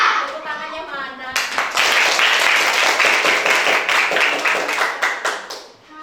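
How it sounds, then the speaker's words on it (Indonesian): A classroom of children clapping hands together after finishing a group task, starting with a brief murmur and then breaking into loud, quick, slightly uneven claps that carry on for several seconds before tapering off. "Tepuk tangannya mana?"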